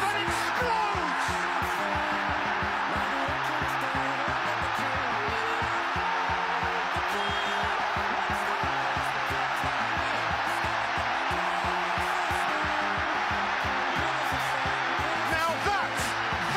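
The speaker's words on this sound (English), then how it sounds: "that is the sound of the theatre of dreams." Huge football crowd at Old Trafford roars after a goal, a dense, sustained wall of cheering that barely dips for many seconds, with chanting and shouts blended in and a voice or two close by.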